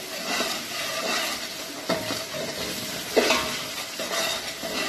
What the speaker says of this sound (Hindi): ये देखिए टमाटर हमारे अच्छे से गल गए और हमने इसको 5 मिनट के लिए भून भी लिया।